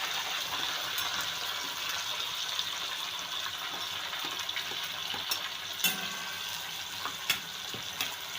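Onion frying in a kadai after the spices have crackled, for a large batch of mutton dalcha: a continuous bright sizzle with scattered clinks and stirring scrapes, heard close and without talking.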